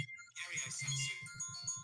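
A mobile phone ringtone plays faintly, a short repeating electronic melody with a steady pulsing rhythm, heard briefly and somewhat distant, with no talk.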